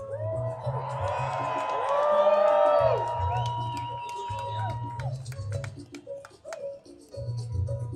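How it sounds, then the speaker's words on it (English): A large protest rally crowd in Chicago cheers and whoops loudly, a sustained roar swelling and fading in waves with shouted voices on top, close and dense throughout. "This is an incredible crowd."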